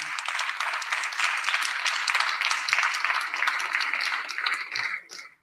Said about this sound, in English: Let's give a round of applause for Sister Amber